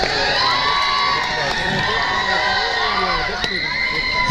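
Cricket spectators at a local match cheer and clap for the player Chetram, with a loud, sustained crowd roar mixed with shouting children and whoops throughout.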